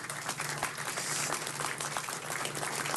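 Audience at a city council meeting breaking into steady applause, a dense crowd of clapping hands sustained at an even level with no pauses throughout.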